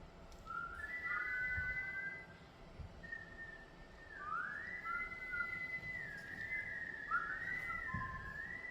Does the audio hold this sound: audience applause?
no